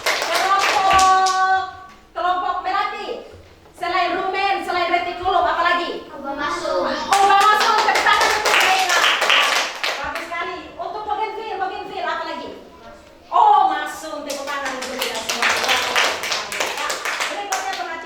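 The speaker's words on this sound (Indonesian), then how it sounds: "Tepuk tangan untuk kelompok anggrek dan kelompok Kamboja" Children in a classroom clap in bursts for their groups, quick rhythmic hand claps mixed with lively children's voices and an adult talking throughout.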